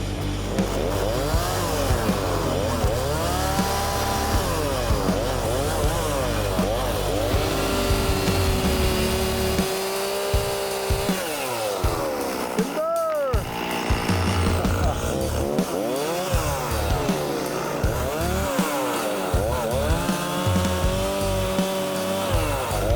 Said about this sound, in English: I'm gonna fire up the chainsaw